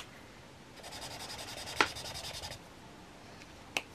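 A GuangNa acrylic marker with a fine nib scratches across a surface in a close, quiet run of short rubbing strokes, with two brief sharp taps.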